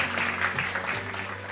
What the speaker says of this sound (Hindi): बहुत सारी तालियां इकबाल रिजवी के लिए।